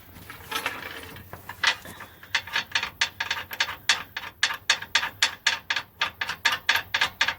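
A ratchet backs a nut off the oil pan of an Acura RSX Type S, starting with some scraping and fiddling, then a rapid, even series of close clicking strokes, about a dozen in a row, with no voices.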